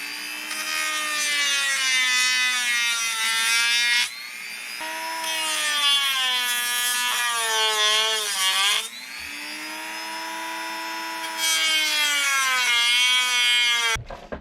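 Power cutting tool working on a first-generation Toyota Tacoma to remove a corner light, a loud whining tone that rises and falls in pitch across several long passes with brief breaks between them.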